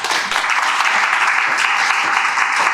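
Sustained audience applause at an orientation session for an accounting course, a loud, dense, continuous roar of many hands clapping throughout.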